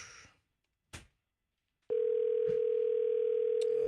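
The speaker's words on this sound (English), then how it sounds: "I think I dialed the right number." A telephone dial tone begins partway through as a number is called, a steady loud continuous tone after a couple of short clicks and brief silence, holding to the end.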